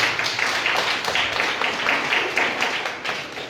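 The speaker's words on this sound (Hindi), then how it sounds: "हालेलुया, यीशु के लिए ताली बजा दीजिएगा।" A congregation at a Christian worship service claps together in a steady, dense wash of applause that lasts throughout and tapers slightly at the end.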